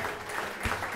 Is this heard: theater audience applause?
yes